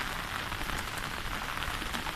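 Heavy rain pours steadily over rice paddies during a tropical storm, a dense, even hiss of drops hitting water and ground all around, loud and continuous without a break.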